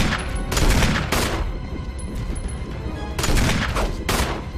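Rapid gunfire from the Resident Evil video game, several loud bursts of shots with dense noisy crackle filling the whole stretch, close and dominant, with no voice heard over it.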